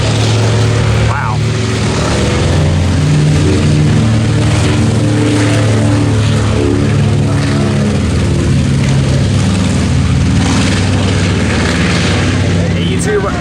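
A B-17 bomber drones with loud propeller engines as it takes off and flies away, a steady heavy roar close by with people talking and cheering over it.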